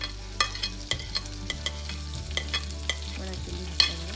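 Dry chillies go into hot oil in a pan, giving a continuous sizzle with repeated clinks and scrapes of a spoon stirring, close and moderately loud, no talking.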